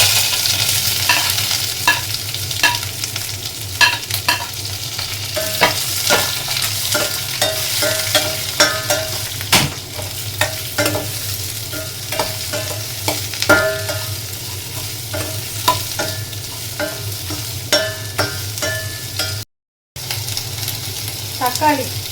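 Onions and torn dried red chillies fry in a pan for a fenugreek greens dish, giving a steady close sizzle broken by frequent scraping and clinking stirs, with no voices.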